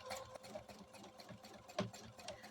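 A sewing machine running during free-motion quilting of a meander pattern on a low stitch setting of 1.2, a faint, steady mechanical whir with small knocks over a couple of seconds.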